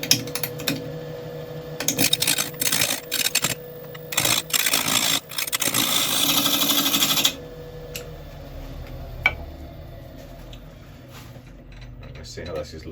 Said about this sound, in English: I'm going to come back up here and do a few pull cuts